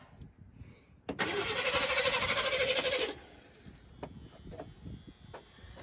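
A 1987 Chevy Silverado engine, left sitting for six years and suffering fuel problems, bursts into life abruptly, roaring loudly for about two seconds before falling back to a quieter, uneven murmur.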